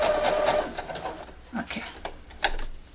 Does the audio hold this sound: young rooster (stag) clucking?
no